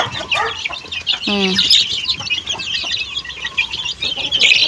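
Pet chickens and chicks feeding on rice and coconut, with soft, scattered clucks and one clear louder squawk, over a steady outdoor background hiss.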